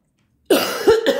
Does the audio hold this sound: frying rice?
no